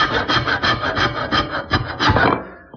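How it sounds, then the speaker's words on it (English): A bandsaw with its table tipped to 45 degrees clips the corners off a wooden bedpost for a Regency headboard, giving a steady rasping cut with pulsing strokes that tapers off as the blade exits. "I've taken the table of my bandsaw and tipped it to 45 degrees."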